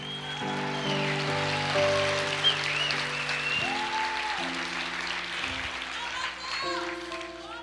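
Church congregation applause during a sermon, a broad steady clatter of clapping beneath sustained organ or keyboard chords, with voices calling out in the mix.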